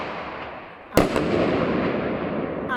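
A firework bursts with one sharp, loud bang and a brief second crack, followed by crackling echo and a noisy outdoor wash, set off in a German street ahead of New Year's Eve.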